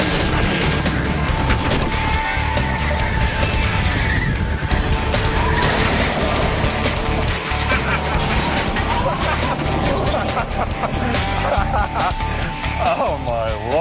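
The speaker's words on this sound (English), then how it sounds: "The car flew 173 feet through the air, but the landing was a little rough." A remote-controlled car launches 173 feet through the air and crash-lands, a dense roar of skidding, impact and rumble filling the scene, with people talking and exclaiming throughout.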